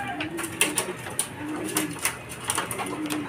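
A racing pigeon arrives at its home loft, with soft cooing and repeated light clicks and taps from the entry trap, close and fairly quiet in a small space.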